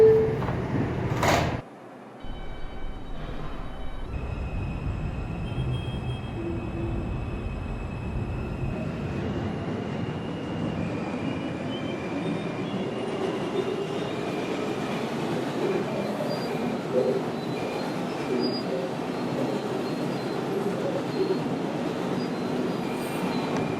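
An R142 2 subway train on the Wakefield line closes its doors with a brief thump, then pulls away, its rolling rumble and motor whine building steadily and staying loud and continuous.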